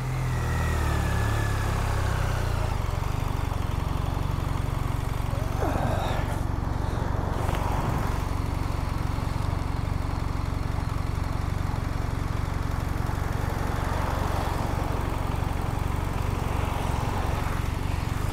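A BMW R1300 GS Trophy Edition motorcycle is ridden on a test ride. The engine drones steadily under a loud, constant roar of wind rush that stays close and unbroken throughout.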